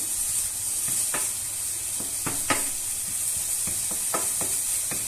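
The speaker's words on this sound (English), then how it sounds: "The meat is slowly cooking." Meat cooking slowly in a pan gives a soft, even sizzle with a faint steamy hiss, broken by a scattering of light scrapes and clicks from stirring.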